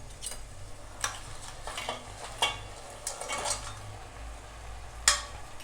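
Washed crab pieces go into a pan of cooked-down tomato masala, with scattered clinks of a spoon against the pan and a soft sizzle underneath.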